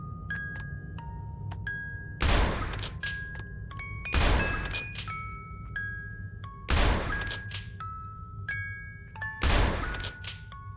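Video game gunfire at a creature: four heavy, evenly spaced booming shots roughly every two to three seconds, each with a sharp broadband crack, between chiming ding-like tones and a low hum, with no talk.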